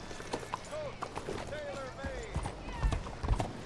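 Horse hooves clip-clopping in the Red Dead Redemption 2 video game, a brief uneven trot under game music, with someone talking over it.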